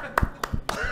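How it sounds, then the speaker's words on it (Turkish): A handful of scattered, uneven hand claps from a studio audience at a comedy game show, four or so separate smacks within a second, sparse and halfhearted rather than a full round. "normal bir alkış alabilir miyiz sizden?"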